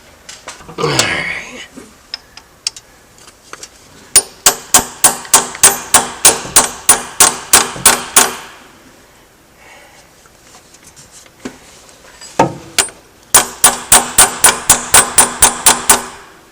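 A hand hammer strikes metal parts on a John Deere 624K loader during thermostat repair, ringing in two rapid bursts of about a dozen evenly spaced sharp blows, with a few scattered knocks and brief voices between.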